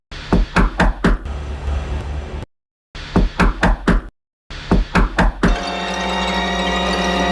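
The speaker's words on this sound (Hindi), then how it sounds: "बार फिर से नॉक किया।" Knuckles rap on a hotel room door in three bursts, each a quick run of four or five loud, close knocks separated by brief silences, with a low steady hum rising at the end.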